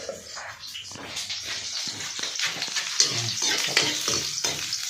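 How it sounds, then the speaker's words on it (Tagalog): Garlic and onion sauté in a hot pan for sardines with papaya, crackling sizzle with scraping stir strokes in irregular bursts, close and fairly loud. "unahin natin yung bawang at sibuyas. So, mainit na."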